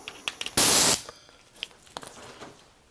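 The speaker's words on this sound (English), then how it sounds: "I'll hook up my air ratchet" An air hose is connected to an air ratchet: a sharp, loud hiss of compressed air lasts under half a second, surrounded by small clicks and handling noises from the fitting.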